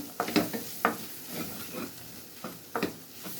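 A spoon stirs broad beans coated with chili powder in a frying pan. Scraping strokes come at a steady pace over a soft sizzle, close by and fairly quiet.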